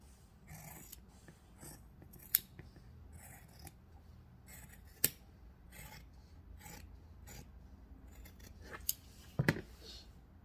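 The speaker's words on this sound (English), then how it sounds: "I'm going to cut around this shape using my fabric scissors." Quiet, repeated snipping and rasping of fabric scissors cutting through denim, with a few sharper clicks of the blades closing.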